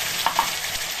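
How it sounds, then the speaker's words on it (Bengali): Nigella seeds sizzling in hot mustard oil, a close, bright crackling hiss with a couple of sharp pops, no voices. "এবারটা এই দেখো সর্ষে তেলের মধ্যে একটুখানি কালো জিরে দেবো"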